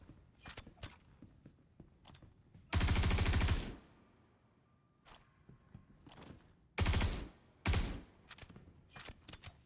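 Gunfire from a weapon in Star Citizen: scattered single shots, then loud sustained automatic bursts of a few seconds each, separated by quiet stretches, close and sharp with no talking.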